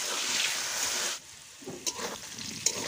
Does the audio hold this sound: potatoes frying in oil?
yes